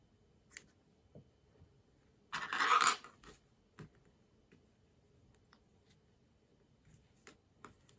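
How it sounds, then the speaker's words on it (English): Scissors cut yarn after a crochet chain on a granny square. A brief rustling snip stands out against quiet background ticks and small handling clicks, with no talking. "Let me just chain 2 and cut my yarn."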